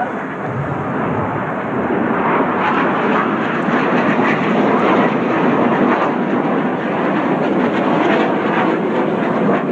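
Red Arrows display jets roaring overhead at an air festival in Bournemouth, a loud, continuous broadband rumble that swells slightly midway and holds steady with no break.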